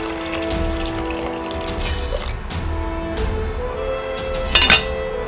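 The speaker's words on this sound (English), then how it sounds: "we fill the pot with water" Tap water runs into a cooking pot, a steady splashing stream with a gradually shifting pitch as the pot fills, and a few small clinks near the end.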